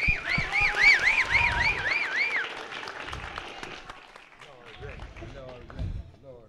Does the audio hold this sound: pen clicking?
no